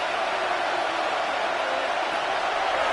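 Stadium crowd noise in the Madden 26 football video game forms a dense, steady roar that holds at a constant level throughout, without distinct voices.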